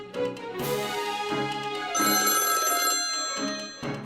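A telephone rings after a number is dialed. The bell is bright and loud, repeating in close, regular bursts with no one speaking.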